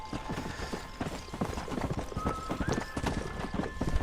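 Horse hooves in Red Dead Redemption clip-clop at a steady trot, close and continuous, with a faint tonal hum and a soft whinny-like sound layered in.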